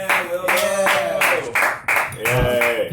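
At an early evening comedy session at Laughing Buddha, an audience claps slowly in unison, with sharp, evenly spaced claps about twice a second that stay steady rather than building, while someone talks over them.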